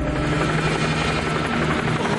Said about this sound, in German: Oh nein, nicht der Hubschrauber, das kann nur eins bedeuten.